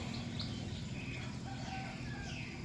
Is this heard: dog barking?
no